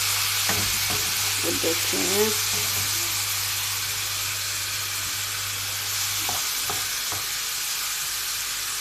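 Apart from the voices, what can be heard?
stirring garlic in a frying pan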